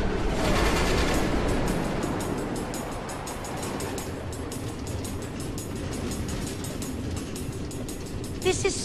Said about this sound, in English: Automated train tracks running all through the Nether, connecting all the different order members?